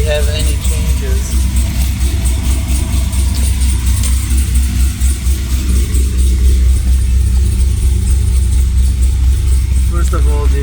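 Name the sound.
2005 Pontiac GTO engine running, put into drive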